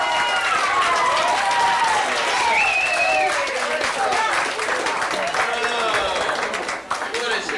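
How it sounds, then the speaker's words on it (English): Loud, sustained audience applause following a mind-reading trick with a goose at a magic show, dense clapping with crowd cheers and whoops rising over it. "If the Goose got it, I'll expect thunderous applause to ensue."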